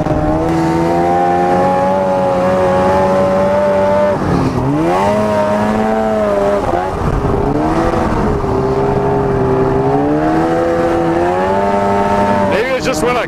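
Arctic Cat ZR 800 snowmobile engine while riding, sounding loud and close: a steady droning whine that dips, surges and wavers in pitch as it bogs, with a voice talking over it.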